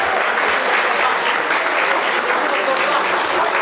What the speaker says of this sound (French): j'aimerais bien qu'on les applaudisse s'il vous plaît